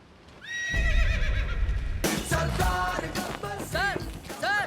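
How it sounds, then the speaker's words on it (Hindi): A horse whinnies in a film scene, a long, loud neigh followed by further whinnies and a clip-clop of hooves over a busy background. "सर सर मेरे घोड़े को छोड़ दीजिए सर"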